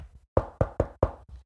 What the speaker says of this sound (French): Et là, devant la porte, il frappe.